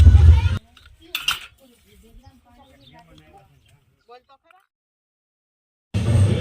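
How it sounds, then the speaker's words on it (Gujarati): Dishes being washed at home: loud clattering of pots and utensils at the start and end, with faint clinks and quiet voices in between. "મમ્મી અત્યારે વાસણ ધોવે છે."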